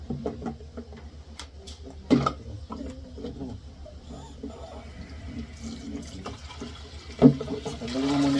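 Water poured into a sink while a child is taught to wash dishes at home, a steady splashing fill with two sharper clattering splashes, faint voices in the background.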